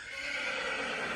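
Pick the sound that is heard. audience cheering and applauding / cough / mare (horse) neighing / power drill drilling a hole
mare (horse) neighing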